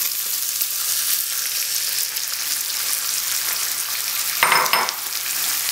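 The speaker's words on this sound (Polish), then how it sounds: "Boczek już się trochę przysmażył, więc pora na wlanie jajek." Eggs are poured onto bacon slices already frying in a pan, a constant loud sizzle that swells into a brief burst of crackling as the eggs hit the hot fat.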